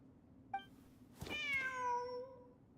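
A cat in the video game Genshin Impact gives a short chirp, then a long drawn-out meow that slowly falls in pitch, clear and close against a quiet background.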